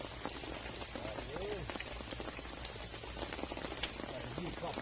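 Rain falls steadily on a natural fishing spot outdoors, a dense continuous patter and hiss throughout, with someone talking faintly beneath it.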